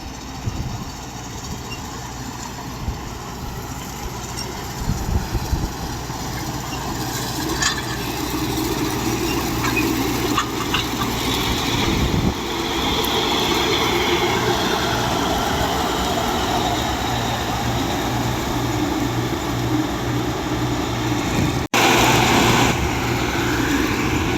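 A large John Deere combine harvester engine drones steadily and loudly throughout while cutting wheat, with a low hum and rumble that holds constant.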